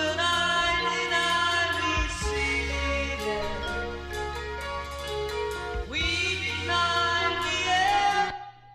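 A track playing, a dense layered electronic piece with sustained harmonic synths and a steady deep bass, briefly thinning near two seconds and again near six before swelling back, then cutting off abruptly at the end.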